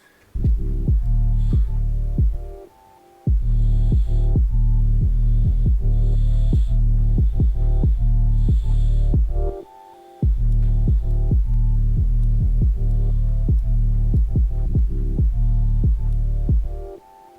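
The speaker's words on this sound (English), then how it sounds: "the low end where you're gonna hear most of the bass and the kicks" Heavy, booming bass and thumping kick drums pound in a steady beat, with the low end dominating; the music drops out briefly twice.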